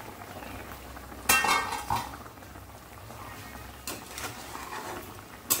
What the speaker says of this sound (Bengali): এবার ঢাকনাটা লাগিয়ে দেব।